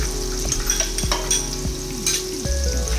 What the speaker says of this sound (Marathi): आता हा कांदा तळूया. तळत असतानाच आपण याच्यामध्ये 2 ते 3 हिरव्या मिरच्या घालून घेऊया.